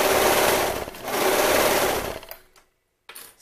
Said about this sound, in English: Especially if you're using a serger like me.